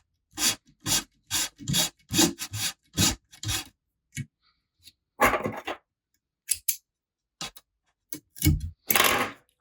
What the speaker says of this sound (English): come back with my burnishing tool, pack these red threads